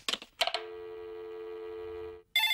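A telephone sounds in a Telugu movie scene: a few short beeps, then a steady electronic ringing tone held for about two seconds, followed by another burst, clear and fairly close.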